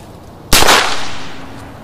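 One loud, close gunshot from a 1945 Nagant MR-313 signal revolver cracks out suddenly, followed by a lingering reverberant decay.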